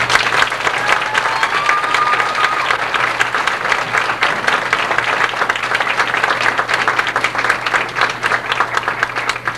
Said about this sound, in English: they should get another big round of applause